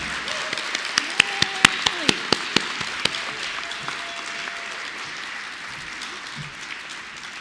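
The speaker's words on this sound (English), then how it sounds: "Please give her another big round of applause." An audience at an awards gala claps for an honoree. A few sharp, loud claps stand out at first over softer scattered applause, and the clapping fades to a light patter as it goes on.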